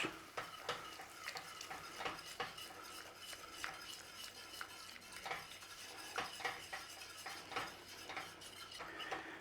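Ale is stirred into a roux in a pan for Welsh rarebit, with a quiet steady scraping of a utensil against the pan, soft rhythmic clinks and a faint sizzle throughout.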